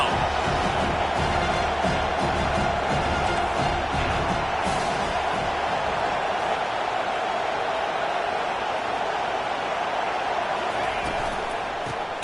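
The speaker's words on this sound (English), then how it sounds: "Decibels rising as the crowd gets behind this defense on 3rd down." A stadium crowd roars loudly and steadily in support of the defense on third down at a Penn State versus Clemson college football game, a dense wash of cheering with no break.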